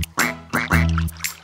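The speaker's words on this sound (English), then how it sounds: "I see five little ducks" Cartoonish duck quacks from a children's nursery rhyme song about five little ducks: several loud, close, nasal calls in a quick irregular run, standing alone without singing.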